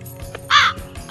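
A cartoon crow gives a single loud, harsh caw in the middle of a brief scene with soft background music.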